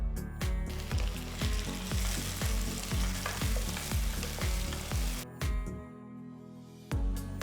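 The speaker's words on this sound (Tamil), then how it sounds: "ரெண்டு பச்சை மிளகாய் கீறினது போட்டு வெங்காயத்தோட கிண்டுங்க" Onions and slit green chilies sizzle loudly in a hot pan for chicken kurma while a utensil scrapes and stirs in a steady rhythm, with a brief pause near the end before stirring resumes.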